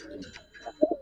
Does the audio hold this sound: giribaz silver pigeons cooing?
yes